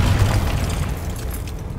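A deep fiery boom from the Confringo spell in the Hogwarts Legacy game rumbles loud and close, a short explosive burst that slowly fades.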